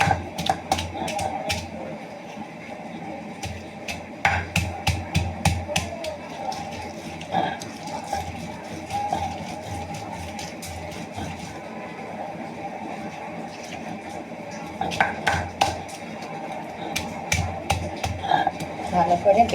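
Bottle gourd peel and dried fish worked on a grinding stone give sharp, dry clacks in quick bursts, with quiet rubbing and a faint background hum between clusters, close and fairly soft.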